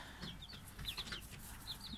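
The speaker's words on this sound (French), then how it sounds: "voilà les deux coqs" Two young roosters clucking softly on a farm, short chirpy calls repeating through the clip over low background rumble, no talking.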